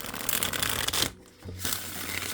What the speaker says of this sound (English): it shuffles really nicely because I waited until this video to look through this deck and to shuffle it